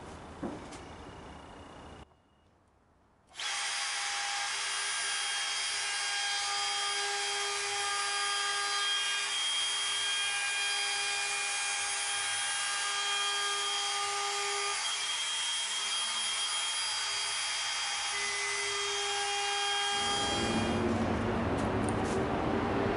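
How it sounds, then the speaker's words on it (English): A power router with a rounding-over bit whines loudly as it shapes the edges of a wooden Adirondack chair armrest, a steady high-pitched tonal drone cutting through wood after a short spin-up, close and continuous. "That bit did a really nice job. Took out those sharp edges on this armrest"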